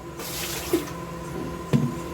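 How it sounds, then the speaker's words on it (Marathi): Soft sloshing and dripping water as mango puran poli dough is dipped in water, with two small splashy bursts a second apart, close by and fairly quiet. "हे असं पाण्यात अशी डुबून, थोडं पाणी कमी करते."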